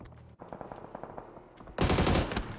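Rapid automatic gunfire in PUBG on the Erangel map rattles in quick bursts, then a louder, denser burst of shots erupts near the end.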